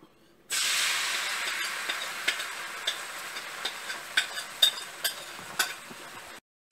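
Eggs scrambling in chili oil in an omelette pan: a sudden steady sizzling hiss starts and runs throughout, dotted with small pops and crackles, then cuts off abruptly.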